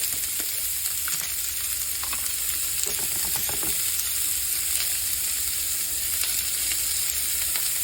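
Minced garlic and chopped baby carrots sizzle steadily in a hot pan, a dense continuous frying hiss with a few faint stirring scrapes, close and alone.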